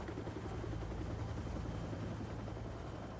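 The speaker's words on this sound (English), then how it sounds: "A rescue helicopter from the Los Angeles County Fire Department arrived within 12 minutes." A Los Angeles County Fire Department rescue helicopter's steady, throbbing rotor drone holds at a constant loud level throughout, with no pauses or other sounds.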